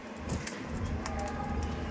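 A Rajanbali pigeon, aggressive and restless during a pairing, coos softly in low murmurs while brief bursts of fluttering wings break through, close by against steady background noise.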